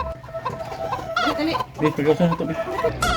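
Several Rhode Island chickens cluck and chatter nearby in short, overlapping bursts, with a faint voice in the background.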